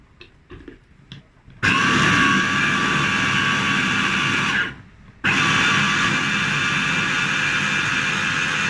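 A few clicks and clatters as the lid closes, then a food processor whirs loudly and steadily, stops briefly, and starts again with the same harsh motor roar.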